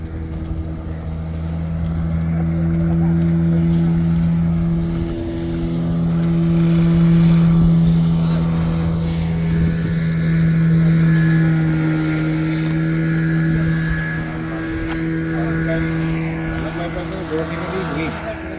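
A motorboat with tyres tied along its sides passes under a bridge in Jaffna, its engine a steady drone that swells and recedes over the whole stretch, with people talking over it.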